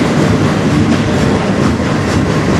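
A CN freight train rolls by at night through Sarnia, Ontario. It makes a loud, close, continuous rumble and wheel roar with faint rhythmic clatter throughout, and there are no voices.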